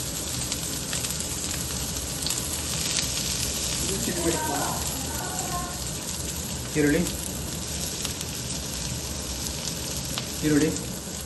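Onions sizzling in about two spoons of hot oil in a pan for green chilli chicken, a steady close crackling hiss throughout with brief stirring clinks and someone talking over it.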